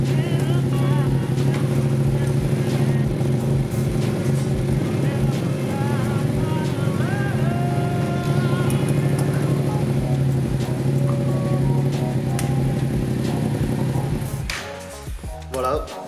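A motorcycle engine idles with a steady, loud drone during cleaning and maintenance, then is switched off near the end, leaving a brief quieter tail.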